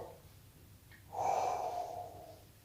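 A full exhale during a breathing exercise: one long, close breath out that swells and then slowly fades, with a short faint intake just before it and a quiet hum in the background.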